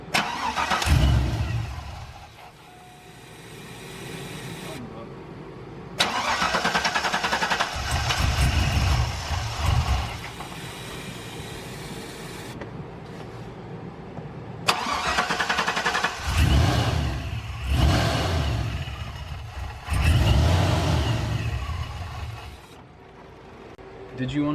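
A supercharged GMC Sierra pickup truck engine cranks and fires up close by, then revs in several loud bursts with idling between them, with some talk around it.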